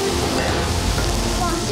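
Meat and vegetables for Mongolian barbecue being stir-fried on a large, very hot griddle: a continuous, dense, loud sizzle and frying hiss with faint stirring underneath, close and steady throughout.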